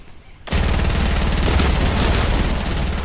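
Rapid gunfire from dual pistols in a video game, a sudden loud burst of tightly spaced shots starting after a short quiet moment and continuing without a break.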